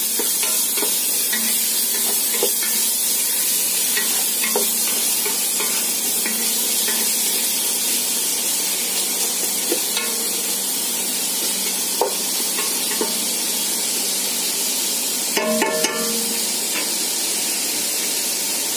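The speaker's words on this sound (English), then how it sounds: "And we let them fry for some more time." Green chilies and tomatoes frying with onions in a home kitchen, a steady close-up sizzle and hiss with occasional stirring clicks and scrapes of the utensil, no talking.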